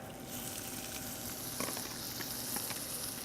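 Black garlic sizzling steadily in a hot frying pan, a close, continuous crackle and hiss with a few brief louder pops, no talking.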